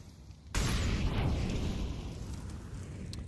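A grenade explodes in Counter-Strike 2 during a pro match, a sudden loud boom at once followed by a long roaring, crackling blast tail that decays slowly.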